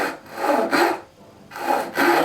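A cheap Ayacucho hand saw crosscuts a wood board in close, rasping strokes. The back-and-forth rhythm is steady, with a brief pause midway. No voices are heard.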